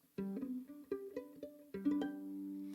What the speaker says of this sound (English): I can use my fingers to do something called pizzicato,